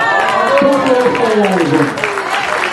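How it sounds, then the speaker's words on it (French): At the prize ceremony of a classic car rally, an audience applauds the crew of a Porsche. The clapping runs throughout, partly buried under a voice speaking loudly over it. "Vous pouvez l'applaudir"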